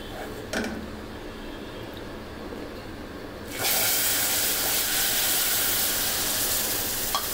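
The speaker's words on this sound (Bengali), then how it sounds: "এখন আমি এখানে সেই গরম দুধ থেকে অল্প একটু দুধ প্রথমে ঢেলে নেব।" Hot milk is poured onto freshly made caramel in a pan. After a faint creak, a loud, broad hiss bursts up and holds steady to the end, close and alone.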